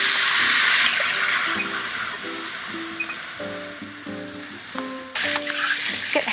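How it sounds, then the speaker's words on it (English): Rice with asparagus and teriyaki steak sizzles steadily while being stir-fried in a pan, with scraping and clinking of a utensil against the pan, and the sizzle jumps louder near the end. "you're gonna stir fry this for a couple minutes until it gets nice and hot"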